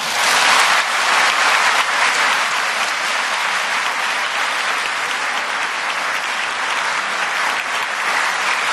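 Loud, dense applause from a church congregation fills the sanctuary, a steady roar of many hands clapping that holds evenly from start to finish with no voices on top.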